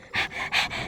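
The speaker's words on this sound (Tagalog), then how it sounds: "Dinig na dinig yung ano, hingal ko." Heavy, rapid panting from a person out of breath after a climb in Antipolo at night, with four quick breaths in a steady in-and-out rhythm, close to the microphone, with no speech.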